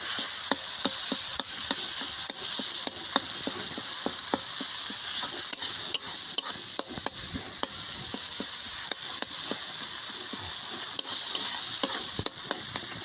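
Tomatoes frying in a pan while being made into an orange chutney, a steady close sizzle broken by frequent sharp clicks and scrapes of stirring, with no voices.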